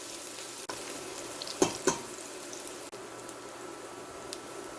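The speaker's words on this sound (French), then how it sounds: "Je vais aller mettre mes échalotes et laisser colorer légèrement." Chopped shallots frying gently in hot oil for Cameroonian-style fish with djansang, a steady soft sizzle with a couple of brief louder crackles and light clinks, no talking.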